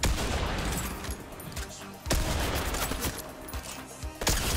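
Rapid gunfire bursts in the video game Fortnite, several sharp shots cracking in quick clusters over a dense, busy game soundscape with no talk.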